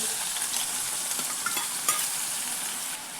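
Chopped tomatoes hit hot oil with sizzling chilli pieces in a pan, giving a bright continuous fry and sizzle with light stirring scrapes and small crackles throughout.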